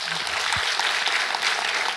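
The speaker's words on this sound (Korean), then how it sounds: "박수 한번 주십시오." Audience applause at a Korean lecture event, steady dense clapping throughout, fairly loud and close, with a brief low voice sound near the start.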